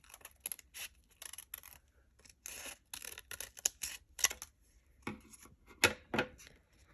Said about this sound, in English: I'm just going to cut it where I drawn my half heart